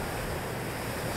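The swollen Meuse river after heavy rain, its water churning in waves as a steady, broad rushing wash with wind noise mixed in.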